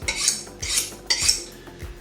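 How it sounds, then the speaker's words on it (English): Goat meat from a hunt being chopped into smaller chunks: four sharp, evenly spaced chops about half a second apart, close and fairly loud, with no talking. "chopping the goat into smaller"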